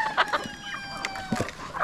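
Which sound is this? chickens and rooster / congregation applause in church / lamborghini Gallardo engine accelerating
chickens and rooster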